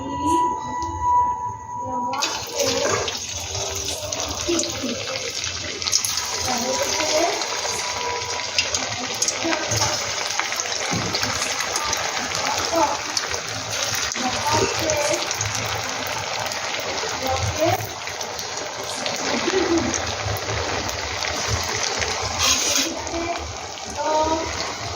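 Potato fingers are dropped one by one into hot frying oil, setting off a steady, hissing sizzle that carries on throughout under occasional talk.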